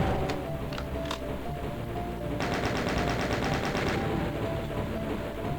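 Chaingun fire in a Doom map from NOVA II, map 28, a rapid continuous stream of shots that grows denser and louder partway through, layered over busy game sound and music.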